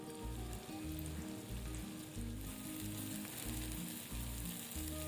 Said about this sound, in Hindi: पाँच से 6 मिनट हो गए हमें भिंडी फ्राई करते हुए